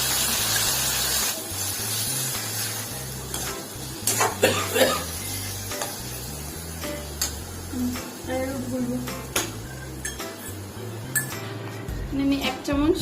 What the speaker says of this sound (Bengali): আমি এখানে সসটা রেডি করে রেখেছি, সসটা দিয়ে দিচ্ছি।